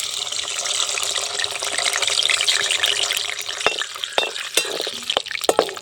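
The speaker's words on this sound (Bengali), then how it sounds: "তেলটা গরম হয়ে গেছে, এবার আমি এই কাঁচা বাদাম নিয়েছি, সেই কাঁচা বাদামগুলো ভেজে নেব।" Raw peanuts fry in hot oil in a pan while being stirred, giving a steady, fairly loud sizzle with scraping and clinking in the last seconds and no talking.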